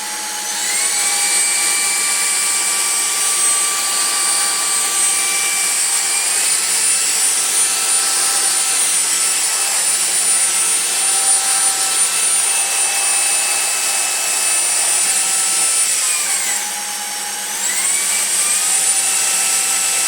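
A loud, steady whine from a Jimmy HW10 vacuum cleaner runs without pause, its pitch shifting up and down a few times as it moves across the floor, with no voices.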